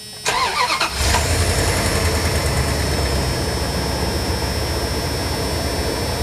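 A 2000 Dodge Ram van cranks with a rapid whirring starter for under a second, then its engine catches and settles into a loud, steady idle roar with a high whine.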